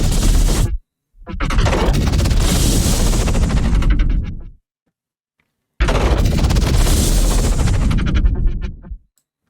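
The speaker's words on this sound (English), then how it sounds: "I'm going to add this explosion and this whoosh and see how that sounds" Two heavy synthesized booms made in Phase Plant, each a roaring explosion burst with a rushing whoosh that cuts off abruptly, separated by a short silence.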